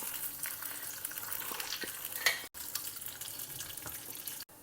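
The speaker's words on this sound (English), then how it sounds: "Now for tempering, heat some ghee. Add some cashews" Cashews and raisins frying in hot ghee for tempering a payasam, giving a steady close sizzle with light stirring scrapes and a brief louder flare, and no talk over it.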